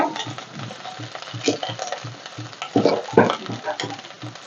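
Curry leaves fry in a pan with garlic and onion, a steady close sizzle with crackling pops and stirring scrapes.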